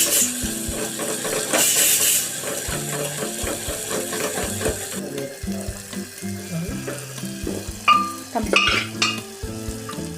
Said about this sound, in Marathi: आणि हा आता मसाला आपण तेल सुटेपर्यंत भाजून घेऊया